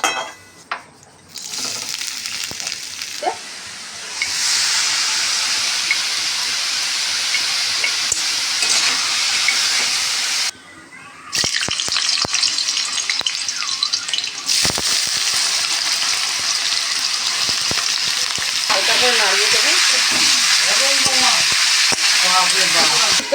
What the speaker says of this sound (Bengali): আমি প্রথমেই বাঁধাকপিটা ভেজে নেবো